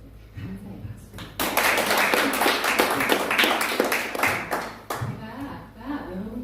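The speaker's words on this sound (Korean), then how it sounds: "감사의 박수." An audience in a lecture setting bursts into a sustained round of thank-you clapping that rises abruptly, holds strongly for several seconds and then tapers into scattered claps as a voice resumes.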